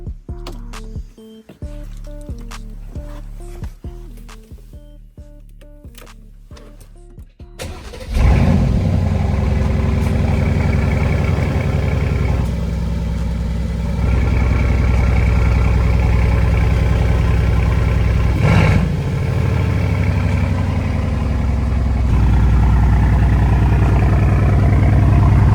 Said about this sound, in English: It's a cold start up, and let's see how it sounds.